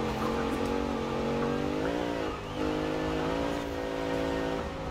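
A 2014 Jeep Grand Cherokee engine in Forza Horizon 4 drones steadily at high revs, pitch dipping briefly as the throttle eases, then climbing back to a sustained roar.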